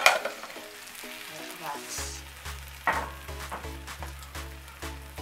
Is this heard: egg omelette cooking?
yes